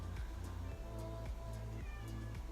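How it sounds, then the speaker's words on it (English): A male cat cries outside a door with a series of loud, drawn-out meows, roughly one every half second, repeated close by. "The cat is crying outside my door."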